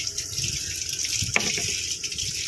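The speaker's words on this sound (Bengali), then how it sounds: "অ্যালোভেরাকে তুলে ভালো করে ওগুলোকে জল দিয়ে ধুয়ে নিতে হবে" Running water pours steadily over aloe vera leaves being washed, with a brief knock partway through and no voices.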